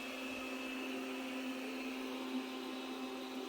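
A robot vacuum cleaner runs indoors with a steady, moderately quiet motor hum and a fixed whine that holds unchanged from start to finish, with no talking.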